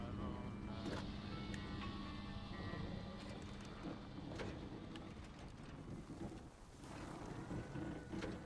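Loud truck engine in the SnowRunner video game, a Washington DLC map, droning steadily with a low rumble and whining tones throughout, no talk over it.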